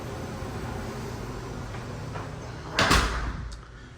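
A door swings open onto the air handler closet in a newly built Florida home, a single near, fairly loud burst of movement and rattle rising from a quiet room hum and trailing off after a moment.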